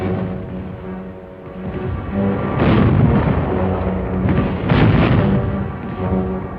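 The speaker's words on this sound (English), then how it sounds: "Finally, when everything was all set, the order was given to commence firing." Artillery fire in the Battle of Manila, a dense rolling rumble with two heavier booming swells, loud and continuous, with no clear separate shots and no voices.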